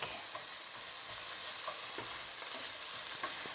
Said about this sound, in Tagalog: here, the onions is now mixed with the garlic